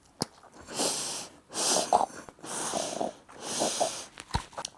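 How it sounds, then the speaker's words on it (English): Heavy breathing through an anti-snore mouth guard, the Somnofit-S, while trying to snore: four long, rough, airy breaths separated by short pauses, close to the microphone, with no real snore. "The most I can generate, is just breathing."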